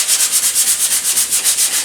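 Body filler on a 1995 Corvette's quarter panels is hand-sanded with a 120-grit sanding block, a steady rhythmic rasp of back-and-forth strokes, close and loud with no talk.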